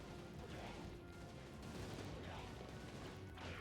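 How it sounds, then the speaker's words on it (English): Rapid gunfire from Ratchet & Clank 3 gameplay, a dense, continuous barrage of shots and blasts with crashes, loud and steady throughout, with a voice faintly mixed under it. "That's a lot of gunfire."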